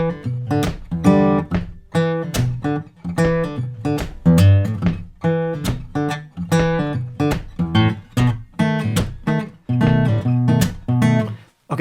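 Slow run-through of a funky slap-and-pop riff on an acoustic guitar: sharp percussive slaps and popped strings alternating with short ringing chord stabs in a steady, unhurried rhythm, close and clear with no talking.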